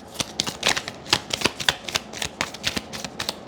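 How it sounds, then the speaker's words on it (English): A Lima Mini Tarot deck is shuffled by hand, giving a quick run of crisp papery riffles and snaps in an uneven rhythm, close and clear with no voices. "Boy, I'm shuffling these in a weird way"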